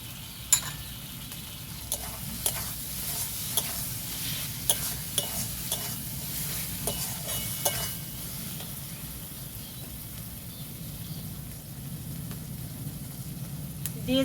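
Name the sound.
stir-frying chicken kosa in pan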